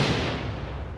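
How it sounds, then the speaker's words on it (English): A grenade explosion in the military shooter Six Days in Fallujah, a loud broadband boom at the start that decays into a rumbling tail over about a second, with no talk. "Grenade out."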